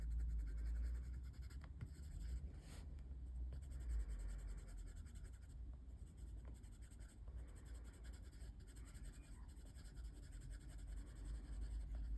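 A pencil scratches across paper while colouring in a stormy sky page, a soft, continuous near scribbling that stays quiet and even throughout.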